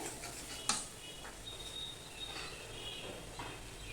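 Fried potatoes stirred through crab curry in a pan, giving a steady low sizzle with scraping stir strokes and one sharp clink of utensil on metal, no talking.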